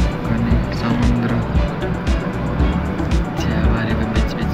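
A car driving along a road through a tea garden, heard from inside as a steady low engine drone and road rumble with a few faint bumps, and no talk over it.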